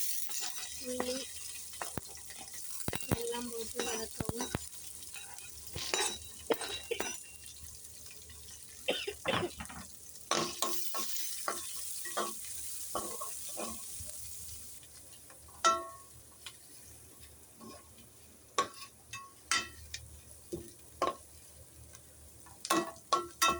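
Onion and chillies sizzle in hot oil for a tempering with curry leaves, for a cabbage kootu, with scattered stirring clicks and utensil taps over a steady faint frying hiss.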